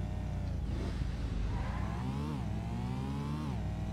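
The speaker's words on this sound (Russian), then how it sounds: "Едет машина наша." A car engine in the racing game Need for Speed: Porsche Unleashed, droning steadily and loudly, with pitch rising and falling as it shifts gears and revs, and faint tyre noise underneath.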